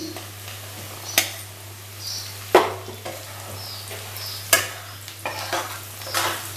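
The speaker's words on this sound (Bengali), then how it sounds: "এর মধ্যে আমি টুকরো করা ভেজে রাখা আলুগুলো দিয়ে দেব প্রথমেই" Fried potato pieces and lightly fried onions are stirred in a pan, with a low sizzle under repeated scraping clicks and knocks of a utensil against the metal at irregular intervals.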